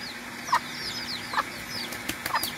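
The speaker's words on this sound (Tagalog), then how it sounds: "So Texas siya, yung inahin." A Texas gamefowl hen in a coop on a farm gives a few soft, spaced clucks, close and fairly quiet, with faint background bird chirps.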